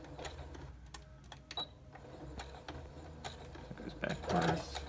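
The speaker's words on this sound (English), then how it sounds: "Here's a sewing machine, and it has this like reverse button." A sewing machine runs its stitches in reverse with soft, rapid mechanical ticking close by, faint and partly under a voice.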